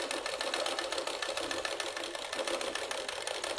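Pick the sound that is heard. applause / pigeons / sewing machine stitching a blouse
sewing machine stitching a blouse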